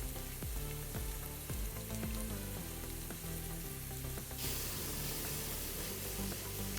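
Kachki fish with tomato and onion sizzles and fries steadily in a pan, with a continuous close-up crackle and occasional stirring scrapes throughout.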